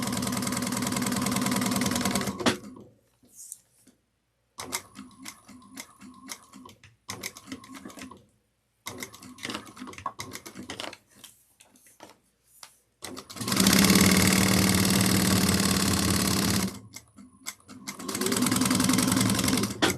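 A sewing machine motor whirs in bursts, starting and stopping, sometimes quiet and sometimes roaring loudly, with pauses of silence between runs.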